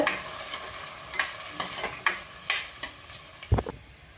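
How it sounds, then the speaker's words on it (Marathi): Washed rice is sautéed in a pan with a soft, steady sizzle, while a spoon scrapes and clicks at irregular moments and a louder knock lands near the end. "त्यामध्ये हे धुतलेले तांदूळ घालूया तांदूळ अगदी मिनिटभरच आपल्याला परतायचे"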